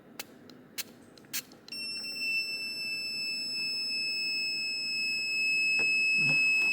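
A few faint taps, then a shrill, high-pitched electronic buzzer on an Arduino rain sensor starts and holds a steady continuous tone, fairly loud and close.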